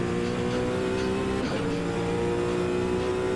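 A hypercar engine in Automobilista 2 holds a steady, loud whining drone, with a brief pitch dip and recovery around the gear change at second gear before it keeps pulling hard.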